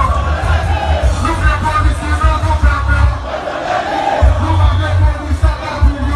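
Massed voices of a big crowd marching for peace, loud and steady, with shouts and whoops rising and falling over a constant rumble.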